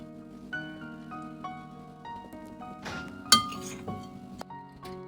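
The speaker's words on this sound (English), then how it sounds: "I'm just going to use a spoon and mix it up." A spoon clinks against a glass bowl while mixing vegan chik parmesan breading, with light repeated taps and scrapes, quiet and close, and one sharper clink near the end.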